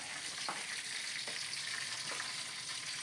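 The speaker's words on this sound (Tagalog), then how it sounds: "Nagpiprito ako." Steady, dense sizzling of food frying in a hot pan, a continuous crackle with a few faint clinks of a utensil.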